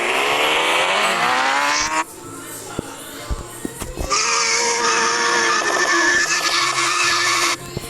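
A motorcycle engine in a racing video game whines at high revs, then cuts briefly and roars up again, loud and continuous, with a skidding tire and scattered game sounds over it.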